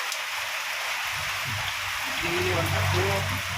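Steady heavy typhoon rain in Eastern Samar hisses across the whole clip, broadband and constant, with low rumbling gusts of wind swelling underneath.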